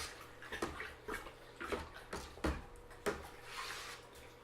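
Apple cider kit liquid being stirred in a fermenter. Rhythmic sloshing swirls repeat about every half second, soft and close, with no voices.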